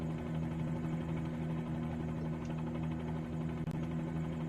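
Bell 47G helicopter engine in MSFS2020 flight simulator, a steady droning hum with a low buzzing tone and constant vibration, sustained evenly throughout at moderate level with no talk.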